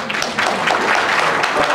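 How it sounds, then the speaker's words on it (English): A short burst of steady applause from an audience, a dense patter of many hands clapping at once, fairly loud and continuous throughout. "round of applause if you're ready to be passionate"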